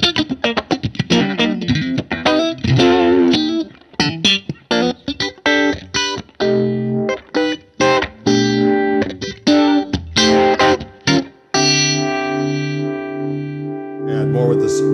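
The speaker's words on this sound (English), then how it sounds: "I'm getting this nice, you know, great Univibe sound." Electric guitar played through a JAM pedals RetroVibe Univibe-style effect into a Fender Vibrolux amp, depth set between 2 and 3, giving busy riffs and chords with a loud, continuous swirling modulation and some distortion.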